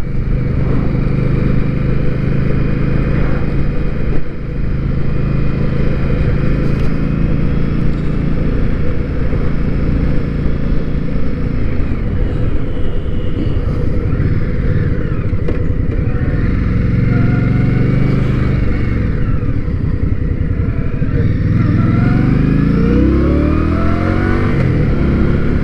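Indian motorcycle engine pulling smoothly and revving through gears on a demo-day test ride, a loud, continuous close-up drone that rises and swells in pitch several times with wind rush underneath.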